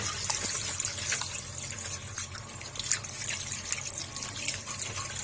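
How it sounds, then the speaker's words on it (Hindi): Tap water runs steadily into a sink while pieces of meat are washed one by one, with splashing and dripping, near and moderately loud. "ऐसे एक एक बोटी को उठाएंगे और अच्छे तरीके से वॉश कर लेंगे"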